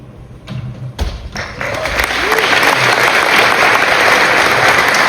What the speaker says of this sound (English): the crowd, instant applause